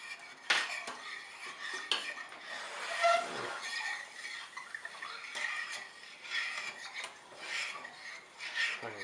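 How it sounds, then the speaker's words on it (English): Cooked pumpkin broken up in a metal pot for cider, with repeated scraping, clanking and knocking of a utensil against the pot, irregular and close, no talk. "Trying to just really break up this pumpkin as best I can."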